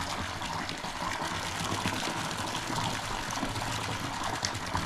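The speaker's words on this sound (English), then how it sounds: "lift the hose up so we can see the water. Cold water." Cold borehole water gushes steadily from a hose on a cherry farm in central Portugal, a continuous, moderately loud splashing rush with no talking.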